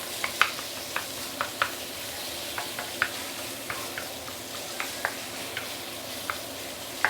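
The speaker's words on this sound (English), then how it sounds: "So we are going to saute the minced meat together with the shallot" Marinated minced meat sautéing with shallots in a pan, a steady soft sizzle broken by regular light taps and scrapes of a spatula stirring, fairly quiet and close.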